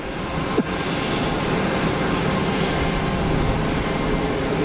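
Steady, broadband roar of an aircraft landing at Geneva Airport, heard from outside at moderate distance, with a brief thump early on and no voices.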